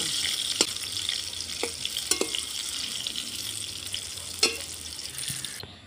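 Eggplant slices fry in a mix of refined and mustard oil in a pan by the stove, giving a steady soft sizzle with occasional sharp pops and crackles.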